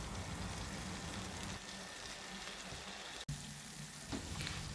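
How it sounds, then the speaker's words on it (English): Onions, tomato and chili fry together into a paste, giving a steady, fairly quiet hiss of sizzling that carries on without a break and has no talk over it. "let's fry the onions, tomato and chili to make a paste of it"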